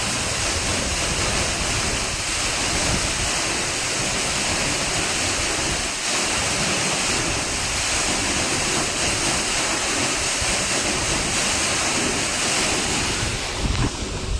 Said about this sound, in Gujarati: આ નદીનું પાણી પડે છે કૂવામાં